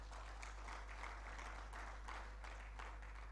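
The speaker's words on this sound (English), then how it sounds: "Can we give him a loud applause once more?" Applause at a healthcare quality improvement conference, a faint, even patter of clapping heard over a constant low hum, with no voices on top.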